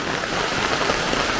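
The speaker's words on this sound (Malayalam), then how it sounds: "ഒരു മഴ വരുന്നുണ്ട്" Steady rain falls with a dense, even hiss, drops pattering continuously on nearby surfaces.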